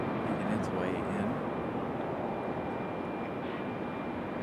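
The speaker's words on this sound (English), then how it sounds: "This Air Canada A320, 30-year-old aircraft. Making its way in." A 30-year-old Air Canada A320 airliner on approach to land at Raleigh Durham airport, a steady broadband engine roar that is loud at first and then eases slightly, with a faint voice underneath.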